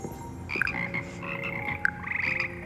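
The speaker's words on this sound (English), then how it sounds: "slimy yet symphonic frogs that comprise the Hogwarts Frog Choir" Croaking frogs of the Hogwarts Frog Choir in a video game, a chorus of repeated croaks and trills over a steady ambient bed, with no speech.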